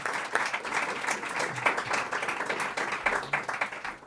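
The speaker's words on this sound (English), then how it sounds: "Let's have a round of applause for all four of our speakers." Applause from a conference audience after a panel of four speakers on Latin America's future, individual claps distinct within a moderately loud, slightly uneven round that carries on throughout.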